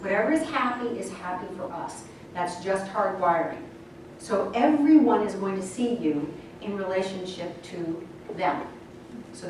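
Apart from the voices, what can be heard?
None of the usual background noises is heard.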